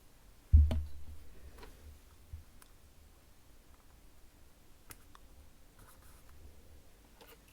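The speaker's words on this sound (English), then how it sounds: "Let me write it down." A pen writes by hand on paper in a quiet room, a soft scratchy scribble after a thump at the start, with faint ticks scattered through.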